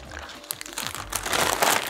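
A plastic bag crinkles and crunches in short irregular bursts, close and fairly quiet, while being fitted into a plastic pitcher for dipping pottery in overglaze.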